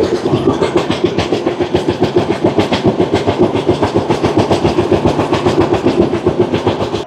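Shatabdi Express from New Jalpaiguri to Howrah running at speed, heard from inside a Vistadome coach: loud, rapid, rhythmic clickety-clack of wheels over rail joints driving steadily throughout, with no talking.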